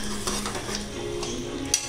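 Large rib-sized pork pieces frying in a pot with tomato, stirred with a utensil: soft sizzling under repeated scraping strokes, with a sharp clink of metal near the end.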